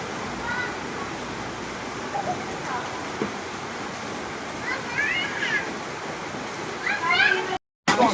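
Heavy rain pours down steadily as a dense, continuous wash, with people talking over it and a brief cut near the end.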